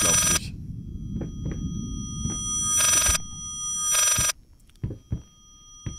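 An old telephone rings inside the horror game Layers of Fear, with three loud rings spaced about a second apart over a low ambient rumble and scattered footsteps or knocks.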